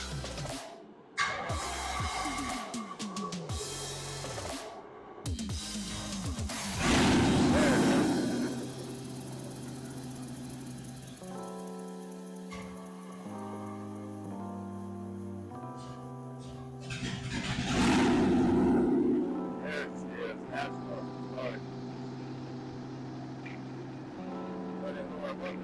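1963 Chevy C10 pickup truck engine under restoration, cranking and starting, then idling with two loud rev bursts and some speech around it.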